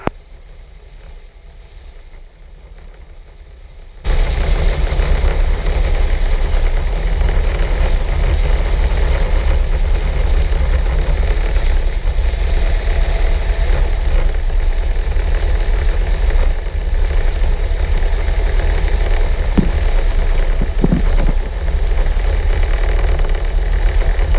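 A light sport aircraft, an Aerotrek, drones steadily with its engine running while taxiing. After a few seconds of quieter background, the engine noise kicks in and holds a loud, even rumble close by.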